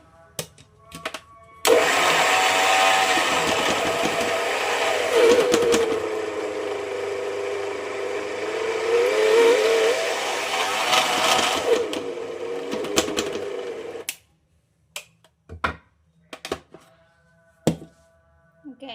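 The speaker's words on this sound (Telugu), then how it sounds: "ఇంకొకసారి మిక్స్ చేసేసి మిక్సీ ఆఫ్ చేసేసుకుందాం" A mixer grinder running on cashews, a loud steady whirring motor for about twelve seconds, then stopping, followed by a few clunks and knocks.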